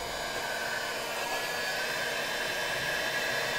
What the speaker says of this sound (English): I'm using a heat gun with 650 degrees Celsius.